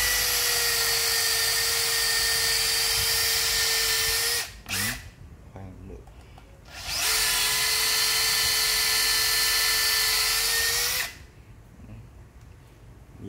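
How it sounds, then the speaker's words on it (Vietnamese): A Makita DDF083 cordless drill runs in drill mode in two long, loud, steady bursts of about four seconds each, with a constant whine and a short quiet gap between them. "Chuyển sang chế độ khoan."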